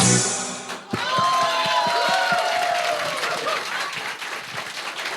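A crowd bursts into loud clapping and cheering after a brief quiet moment, with sharp claps and shrill whistles rising over the sustained roar.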